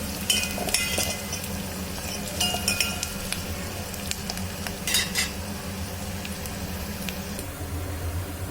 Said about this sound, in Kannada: ಸಾಸಿವೆ, ಸ್ವಲ್ಪ ಎಣ್ಣೆ, ಈರುಳ್ಳಿ ಒಂದು, ಸ್ವಲ್ಪ ಕರಿಬೇವಿನ ಸೊಪ್ಪು ಹಾಕ್ಕೊಂಡು ಒಗ್ಗರಣೆ ಹಾಕ್ಕೋಬೇಕು